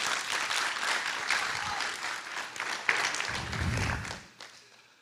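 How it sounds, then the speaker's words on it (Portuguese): Applause from a church youth service audience fills the space, a dense sustained wash of clapping that swells, then thins and fades out near the end. "Salva de palmas para eles aí."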